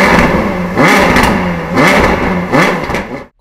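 A powerful engine revs sharply three times, each blip rising and falling quickly, loud and close, with a brief lull between bursts.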